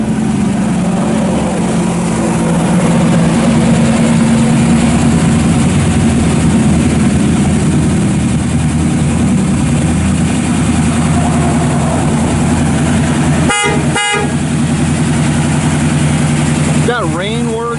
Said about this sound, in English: Thing fires right up.